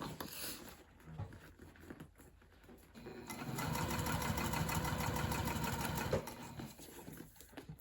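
A sewing machine stitches the top seam of a tote bag, a steady mid-level whir that picks up and holds for several seconds before easing off.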